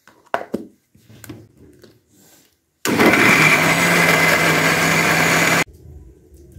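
After a few clunks and knocks, an electric blender roars for about three seconds, grinding ginger, garlic, green chillies and spices into a paste, then cuts off abruptly into a low hum.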